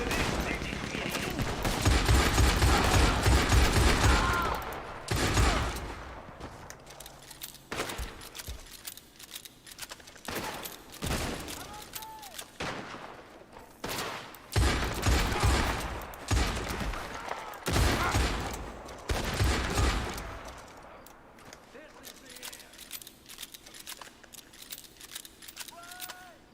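Rapid gunfire in the Red Dead Online video game: dense bursts of loud shots in quick succession, then scattered single reports and clusters, with someone talking in between.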